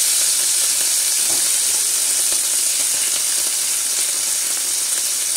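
Steak sizzles and fries steadily in a hot pan, a loud, close, continuous crackling hiss with faint stirring noises.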